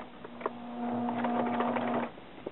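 A sewing machine running a straight stitch along the inside line of a skirt pocket, a short steady humming burst of about a second with faint clicks before and after.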